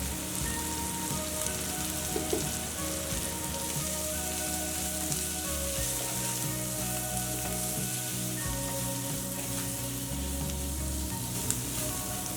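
Onions frying with spices in a pan on the stove, a dense, continuous close-up sizzle and crackle with occasional stirring scrapes, steady and unbroken throughout, no voices.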